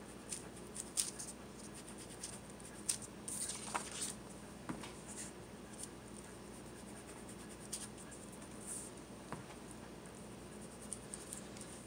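Paper edges being roughened and torn by hand for a small handmade craft booklet, a soft, continuous rustling and scratching with occasional crisper scrapes, close and fairly quiet.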